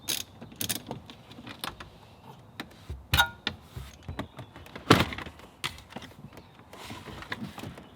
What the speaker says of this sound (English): I have 4 10mm bolts that I'm going to go ahead and remove.